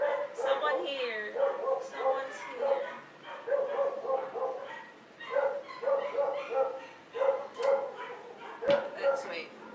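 Several dogs bark nearby in repeated bursts of bow-wows and higher yips, with short pauses between volleys and a loud sharp bark near the end.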